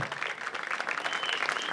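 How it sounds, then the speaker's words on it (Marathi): Audience applause at a school annual gathering, a dense steady patter of many hands clapping close by throughout with no pauses, as the crowd responds to a student performance. "जोरदार टाळ्या होऊ खूप द्या"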